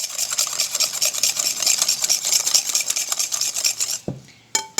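Rapid whisking or stirring of a biscuit dough mixture for letter-shaped shortbread, beaten until foamy, giving a dense steady scraping rattle for about four seconds that stops abruptly, followed by a couple of faint clinks.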